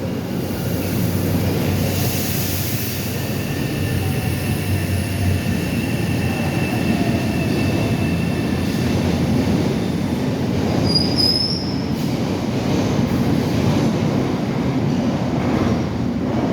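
A train rumbles through Roxbury Crossing T station on the Boston subway, a loud continuous roar with squealing wheels and rail noise, close by and sustained throughout.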